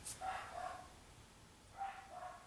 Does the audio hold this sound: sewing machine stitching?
no